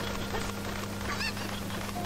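A cucco chicken from Zelda Ocarina of Time gives short game squawks and clucks over a steady background hum of game music.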